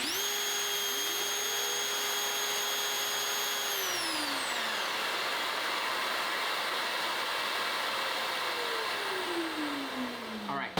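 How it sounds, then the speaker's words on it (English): A Mafell Duo dowel machine whirs steadily along with the shop vacuum connected to it, one loud continuous motor drone for about ten seconds that winds down near the end. "I can just turn it on and it should turn on my vacuum"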